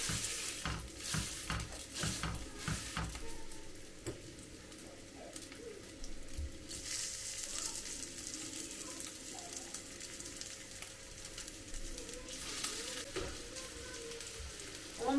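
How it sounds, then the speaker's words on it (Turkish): Meatballs fry in a pan with a steady sizzle and crackle filling the background, with pops here and there, while birds coo nearby. "Köftemi de kızartayım."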